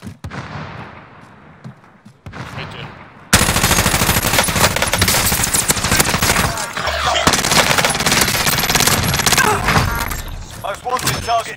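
The FARA 83 assault rifle fires in Call of Duty Warzone (Cold War era), a loud, dense stream of rapid automatic bursts in short volleys lasting several seconds, after a quieter lead-in with game sounds.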